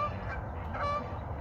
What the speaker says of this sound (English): Batch of geese coming in.